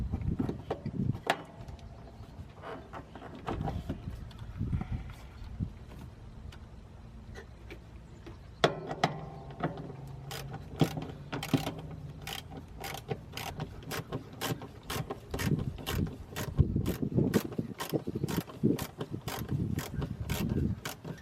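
Ratchet wrench with a 9/32 socket backing out screws on the blower motor resistor of a 2002 Chevy S-10 Xtreme, a steady series of close, dry clicking pawl ticks in repeated bursts with light mechanical handling between.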